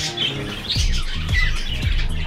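Former pet birds rescued to an animal sanctuary squawk and call in a dense, overlapping chorus, with repeated harsh bursts over a steady background din.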